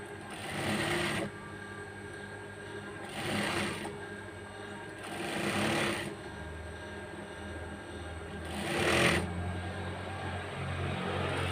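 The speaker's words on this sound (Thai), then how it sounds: "อันนี้เย็บนะคะเย็บริม" A sewing machine stitching along the edge of a pillowcase, whirring in four bursts of one to two seconds separated by quieter pauses, close and moderately loud over a low background hum, no talking.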